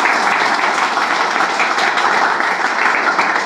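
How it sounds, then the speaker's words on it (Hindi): A classroom crowd gives its teacher a loud, dense round of applause, many hands clapping steadily and close throughout, with a few voices faintly underneath. "आप लोग प्लीज हमारे टीचर के लिए एक बार जोरदार ताली बजाइए भाई"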